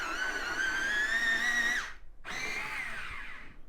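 An India red pencil is sharpened in a pencil sharpener: a close, high whirring grind with a short pause, then the grind resumes and tapers off.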